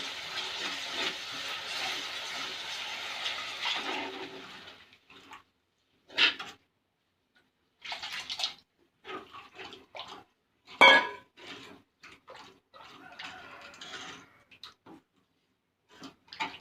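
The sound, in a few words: salted tamarind water poured into fish curry pan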